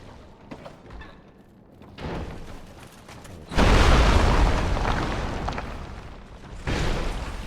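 A deep, rumbling blast booms out in the Dark Souls 2 game, swelling suddenly after quieter ambience and lingering with a rolling roar before another thud surges near the end.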